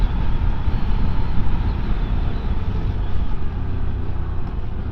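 A QJ Motor motorcycle engine pulls hard uphill, a steady loud broadband drone with low rumble and wind buffeting, its surge briefly easing at a gear change before building again.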